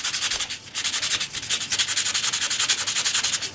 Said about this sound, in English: file this edge down with the 220 grit and get rid of this corner here that's sharp